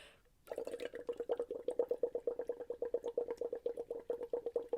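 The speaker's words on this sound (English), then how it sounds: "you put your straw into water" Bubbles are blown through a straw into a partly filled container of water, making a rapid, steady run of soft bubbling pulses with a sustained tonal note, close and quiet after a brief silence.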